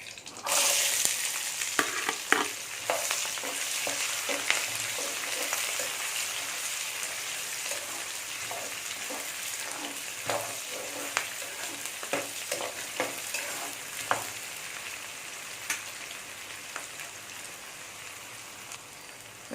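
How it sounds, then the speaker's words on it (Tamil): Onions sautéing in a pan for crab biryani, a steady soft sizzle with irregular scraping clicks from stirring, moderately close and without voices. "வெங்காயம் வதங்கிட்டு இருக்கு"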